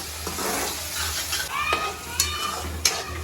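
Oil sizzles steadily in a pan as a chutney tempering cooks, while a spoon stirs and scrapes, with a few sharp clinks against the metal.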